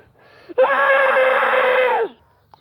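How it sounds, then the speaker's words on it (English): A dinosaur lets out a loud, sustained scream of agony in a gory island battle, one long, steady, harsh cry of about a second and a half that cuts off abruptly, close and dominant. "Bloodtooth screams out in agony after her death of her child"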